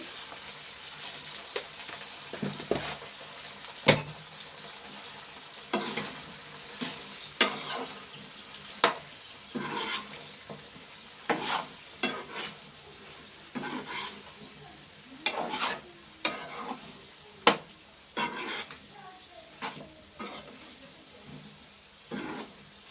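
Vegetable pieces frying in a pan, a low steady sizzle under repeated sharp scrapes and knocks of a spoon stirring, spaced irregularly every second or two, close and without talking.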